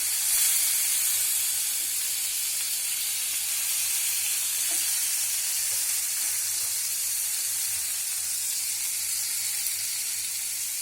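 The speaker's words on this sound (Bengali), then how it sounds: "অন্য পাশে এবার ভাজা হচ্ছে" A piece of rohu fish fries in a pan after being flipped, a quiet, steady bright sizzle and hiss of oil heard close by and uninterrupted, with no voices.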